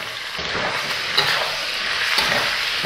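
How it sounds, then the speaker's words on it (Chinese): Torn large green peppers stir-fried hard in a hot wok with salt, soy and aromatics, a loud continuous sizzle broken by a couple of sharp scraping stirs, with no talking. "把它爆炒一下。"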